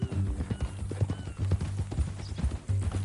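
Horse hooves clip-clop at a steady trotting rhythm in Red Dead Redemption 2. The hoofbeats are close and clear, with soft tack noise and a faint snort, and no speech.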